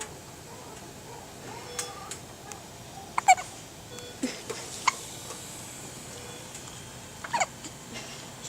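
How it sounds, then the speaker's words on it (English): Puppet Podlings hiccup in turns, giving short squeaky yelps in quick bursts that alternate between two performers. They sit faint over a quiet background with gaps between them. "we have hiccuping Podlings in stereo"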